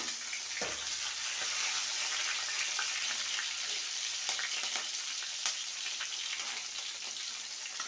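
Crushed garlic and green chilli fry in hot oil in a pan for dal khichdi, a quiet, steady close sizzle with faint crackles and a couple of small clinks, no voice over it.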